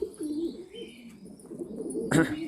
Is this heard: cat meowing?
no